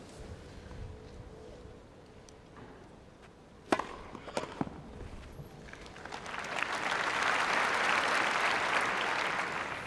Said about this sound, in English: And the crowd very appreciative of the shot making